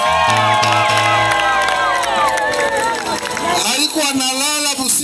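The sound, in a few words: crowd clapping and cheering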